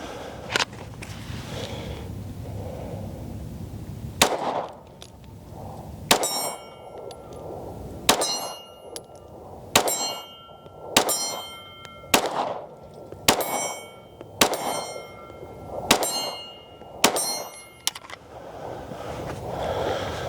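A Springfield Armory Echelon Comp pistol fires round after round at a metal target, each shot giving a sharp ringing clang, about a dozen in steady rhythm from mid-range with no talk.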